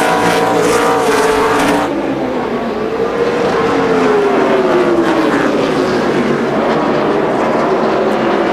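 NASCAR stock cars race in the final laps of the Subway 500 at Martinsville, engines roaring loudly and continuously as cars pass close by, with rising and falling pitch as they accelerate and brake.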